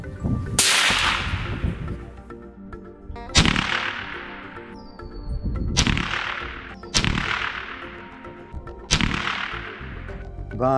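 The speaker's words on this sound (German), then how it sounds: "Wir haben uns daher entschieden, einen weiteren Schuss anzutragen." Five loud rifle shots fired with a night vision adapter attached, each a sharp crack with a long decaying echo, spaced about one to three seconds apart, close and alone.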